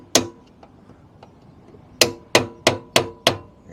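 An old screwdriver is hammered to tap a part out during a Direct Bikes DB50 scooter restoration: one sharp metallic strike, a few faint light taps, then five loud close strikes in a quick steady rhythm.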